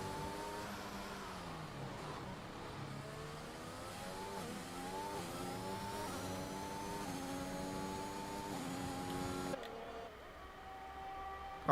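A race car in a racing video game at the Mexican Grand Prix circuit starts a hot lap, its engine revving steadily up through the gears with repeated rising pitch sweeps, moderately loud and continuous before cutting off abruptly near the end.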